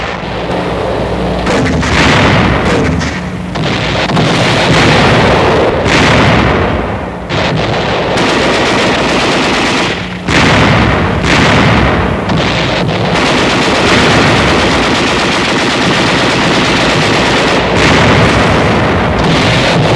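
Relentless battlefield din of artillery barrages and infantry gunfire, with heavy booms and rattling shots packed densely together for the whole stretch, loud and close with only brief dips between volleys.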